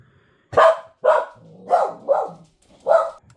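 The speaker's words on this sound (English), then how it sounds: "I apologize for the corgi barking." A corgi barks five times nearby, loud and sharp, with short gaps between barks and a faint whine in between.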